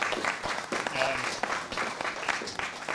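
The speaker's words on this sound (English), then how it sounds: "Should we do a last round of applause for Johnny" Closing round of applause from a folk festival crowd, a dense patter of clapping with a few sharp individual claps, and some talking mixed into it.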